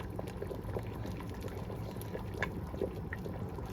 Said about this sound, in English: that's my soup pot, pea soup, and it's bubbling down away